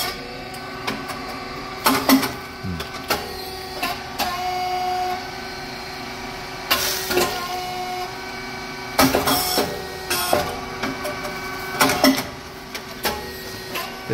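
Rice cake popper machine running, with recurring mechanical clanks, hisses and sharp bursts over a low steady hum, cycling at irregular intervals at moderate volume with no voices.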